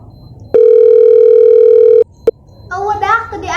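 A telephone gives one loud, steady tone that lasts about a second and a half and then cuts off sharply, followed by a short click and then someone speaking.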